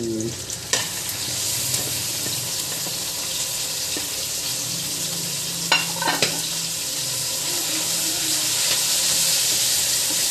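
Pork meat sautéing in rendered pork fat for dinuguan, a steady close sizzle with occasional stirring scrapes and utensil clinks, no voices.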